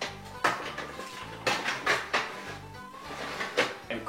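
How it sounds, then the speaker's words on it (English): Metal clanks and rattles as an oven rack is slid back into an oven, several sharp scrapes and knocks in an uneven rhythm, close by with no talking. "Place the rack back inside"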